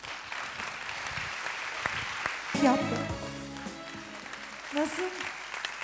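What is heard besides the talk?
studio audience applause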